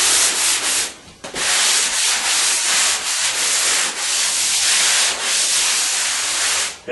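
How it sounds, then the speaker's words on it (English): Dried drywall compound being lightly sanded on a smoothed paneled wall, a loud close scratchy rasp in repeated back-and-forth strokes with a brief pause near the start. "Lightly sand it."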